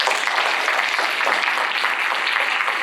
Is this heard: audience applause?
yes